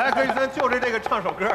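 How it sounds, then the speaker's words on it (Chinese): A knife chops fresh beef into mince on a board at a cooking competition show, with steady rhythmic thuds under a person talking. "老师虽然是在剁，但它都是在一个纹理上剁"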